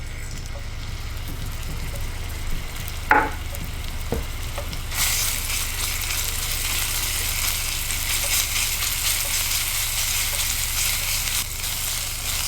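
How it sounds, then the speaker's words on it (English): Minced garlic sautéing in vegetable oil in a saute pan over medium-high heat, with a steady loud sizzle that jumps up partway through and holds, plus a few brief utensil clicks early on. "Saute the garlic for about 30 seconds or so just to bring out some flavor."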